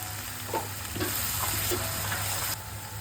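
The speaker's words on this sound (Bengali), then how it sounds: "এবার আমি লঙ্কা বাটা দিয়ে দিচ্ছি।" Ginger, garlic and green chili paste frying in hot oil for dal makhani, a steady close sizzle with a few soft stirring scrapes and brief bursts of louder spitting.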